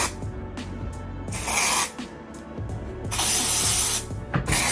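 An aerosol spray can hisses in several short bursts during hair styling, close and fairly loud, with quiet gaps and faint handling sounds between sprays.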